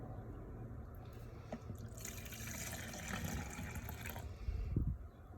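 Evaporust rust remover liquid pours into a container, a faint, steady trickle that swells into a fuller gurgling pour near the end, heard alone without speech.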